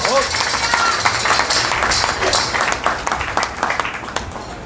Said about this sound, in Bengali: জোরসে করতালি হোক।